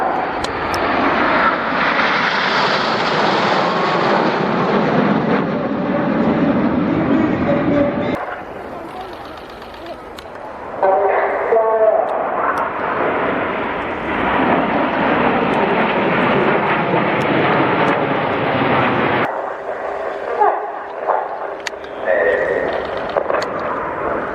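Jet aircraft of a display team fly in formation at an air tattoo, a loud sustained roar that rises and swells across the clip, easing briefly before surging again.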